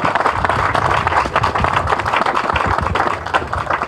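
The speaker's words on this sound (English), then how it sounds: "we need to applaud that right now" Applause from the audience at a Premier's Cup match reception: steady, dense clapping from many hands, close and sustained throughout.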